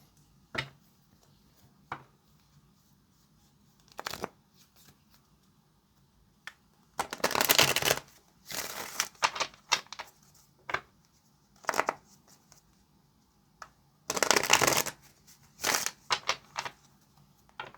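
Tarot cards are shuffled close by in several separate bursts of rapid riffling and shuffling, with quiet taps and pauses in between.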